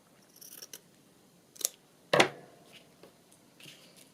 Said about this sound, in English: Cut it down the middle.